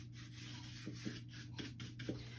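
Brush strokes rubbing outdoor polyacrylic sealer over a wooden photo-transfer sign, a soft steady scrubbing with a few light taps, close and quiet with a constant low hum behind.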